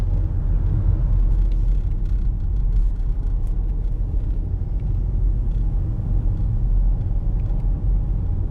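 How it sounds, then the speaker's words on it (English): During Hurricane Dorian in Barefoot Bay, Florida, a car speeds along a street past other cars in high winds, a loud, constant low rumble of engine and road noise mixed with wind buffeting, with no voices. "There's a guy passing cars on this street."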